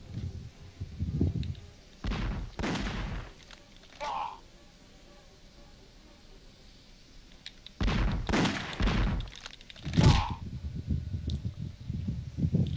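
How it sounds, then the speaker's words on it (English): Gunfire from the Superman 64 video game comes as bursts of sharp shots and thuds in two clusters, mixed with a person talking over the game audio. "he's shooting me in the back and bullet locking me"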